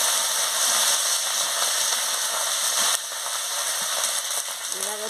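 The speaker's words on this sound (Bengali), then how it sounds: "দিয়ে ভালো করে মশলাটার সঙ্গে ভেজে নিচ্ছি।" Vegetables fry with spices in a pan for an onion-stalk chorchori, giving a steady, close sizzle that continues through the clip with a small shift partway.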